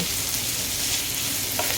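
Potato peels and chopped onion frying in a little oil, a dense, even hiss of sizzling that runs unbroken and close up throughout.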